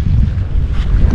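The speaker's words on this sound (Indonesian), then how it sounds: "Karena ini udah mulai datang angin." Strong sea wind buffets a fishing boat offshore, producing a loud, continuous low rumble of gusts against the microphone with no voices present.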